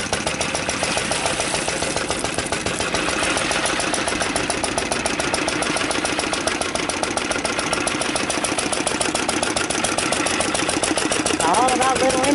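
Small International Harvester and Femyer engines running together while pumping water, a fast steady chugging with regular knocking pulses, loud and close throughout.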